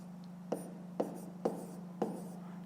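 A pen taps and scratches on paper while numbers are written by hand during a math exercise, with four distinct, evenly spaced ticks over a quiet steady hum.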